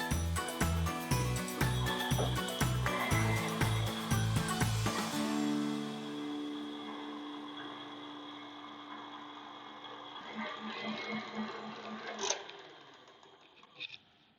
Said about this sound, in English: now that the eggs have started to get frothy, I'm going to turn the mixer all the way up